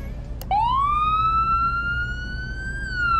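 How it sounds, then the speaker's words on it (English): Police siren from the Flashing Lights video game starts abruptly after a brief click and holds a sustained rising, then steady wail, loud and alone. "There's only one Siren that's defaulted between all the vehicles"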